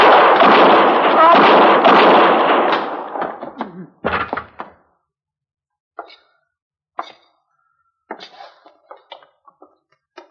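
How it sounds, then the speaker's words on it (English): Gunfire in a shootout from a Gunsmoke western radio drama: a loud, dense roar of shots for about three seconds, then a sharp heavy bang and scattered smaller knocks trailing off into quiet. "You killed both of them, Mr. Dillon. I didn't even get a shot off"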